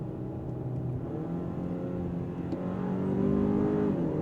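A 2024 Hyundai Sonata N Line engine drones and hums from inside the cabin under manual paddle shifting, rising slightly in pitch and loudness toward the end, with a steady road rumble underneath.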